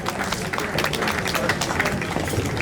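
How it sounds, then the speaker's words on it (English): Applause from a resort audience for a Maasai evening show at a Zanzibar beach resort: a dense, steady patter of many hands clapping at moderate loudness, with crowd noise mixed in throughout. "Yes, a big applause, ladies and gentlemen,"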